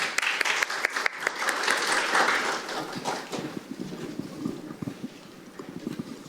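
Audience applause at a Korean National Assembly forum on Arctic shipping routes, a dense burst of clapping that peaks early and then thins to scattered claps as the next presenter is introduced.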